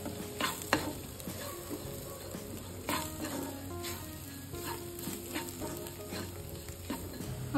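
Chicken frying in a pan with coriander powder, onion-garlic masala and chicken masala sizzles steadily while a spoon stirs and scrapes, producing close, irregular clinks over the continuous hiss.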